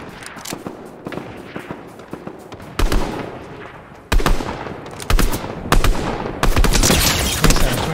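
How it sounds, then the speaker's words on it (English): Rapid gunfire in a Fortnite Zero Build match, with sharp repeated shots and bursts, some near and loud, others more distant, building in intensity over the clip with no talk. "I hear shots over here."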